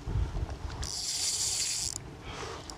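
Fishing reel drag being loosened on a boat during inshore fishing, a bright ratcheting buzz of about one second, then a brief faint click, with wind noise behind.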